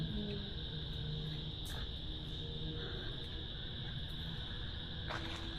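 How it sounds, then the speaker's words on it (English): A steady nighttime chorus of frogs and insects fills a garden, a dense continuous trill and croaking heard at a distance with no voices. "But you can hear the frogs."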